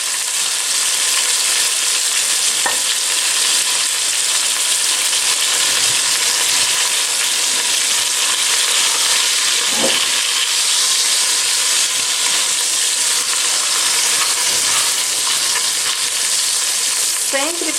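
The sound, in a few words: oxtail searing and sizzling in a pan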